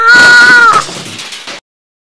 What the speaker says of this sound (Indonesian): Kucing sialan itu rupanya.